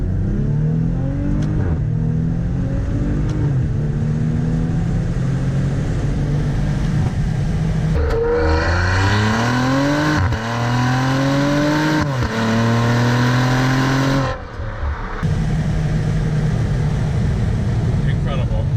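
Maserati Levante SQ4 SUV engine revving hard on an open road with the window down, rising pitch sweeps broken by distinct gear-shift drops, loud and close, with a person talking briefly at points.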